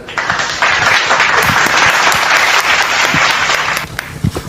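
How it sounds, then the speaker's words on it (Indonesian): Audience applause at an interfaith religious debate, a steady, dense wash of many hands clapping that holds loud for about four seconds before thinning out at the end. "Tepuk tangan."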